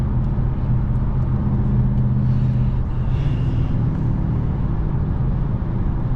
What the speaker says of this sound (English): Even just the downshifts are loud enough